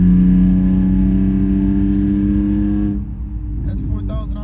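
A BMW E46 wagon engine holds a steady, loud rev with strong low harmonics for about three seconds, then eases off into a rougher, quieter idle with faint clatter near the end.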